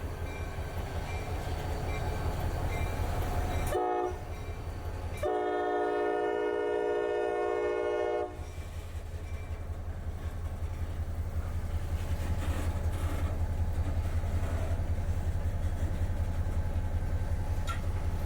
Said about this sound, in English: yesterday around 3:30 p.m., we saw the arrival of a new to us, GP40-2